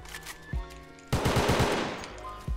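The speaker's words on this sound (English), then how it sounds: "Oh no, he's shooting guns now." Rapid automatic gunfire in the video game Counter Blox, a loud, close burst of shots lasting about a second, with single louder reports just before and after.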